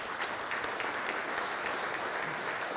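Steady applause from an audience at a startup event on future mobility, dense clapping filling the whole stretch at an even, moderate level with no voices on top.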